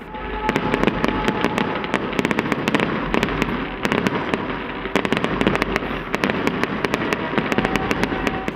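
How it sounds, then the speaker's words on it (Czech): A New Year fireworks display with light effects and music bursts over Hradec, dense rapid crackling reports and booms firing in clusters, loud and continuous. "Ohňostroj se světelnými efekty a hudebním doprovodem byl odpálen přesně v 18 hodin"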